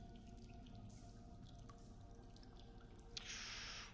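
Water drips as a sound effect during a tabletop fantasy role-playing session, a faint patter over a steady background hiss that ends in a brief brighter splash.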